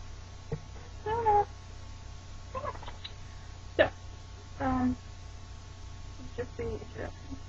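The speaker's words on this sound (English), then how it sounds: "This is my niece's cat." A domestic cat meows at a door indoors, several distinct drawn-out meows spaced a few seconds apart, fairly close and clear against a faint steady hum.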